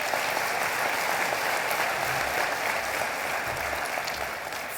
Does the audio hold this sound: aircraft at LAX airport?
no